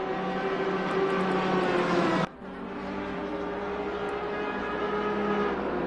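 A BMW race car engine in a sim racing game at Misano, a loud sustained high-revving drone that drops abruptly at a gear change, then climbs and holds steady again.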